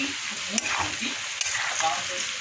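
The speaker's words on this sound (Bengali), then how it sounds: "এবার আমি টমেটোগুলো দিয়ে দেব" Tomatoes tossed into vegetables frying in oil for chowmein, a continuous sizzling hiss with a couple of sharp clicks from the pan and soft stirring.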